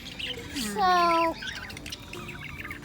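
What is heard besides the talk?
pet budgie squawking and chirping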